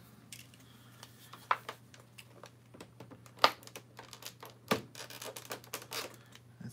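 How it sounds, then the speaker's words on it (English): Scattered sharp scissor snips and crinkly clicks sound close by, cutting plastic packaging on Star Wars Black Series figures, irregular cuts and rustling with brief pauses between them. "I'm gonna try to cut them with the scissors here."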